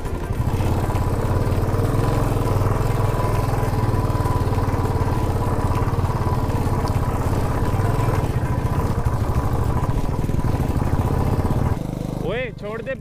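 A motorcycle engine idles close by with a steady, rough chugging on a muddy off-road mountain stretch, with people talking over it before the engine cuts off near the end.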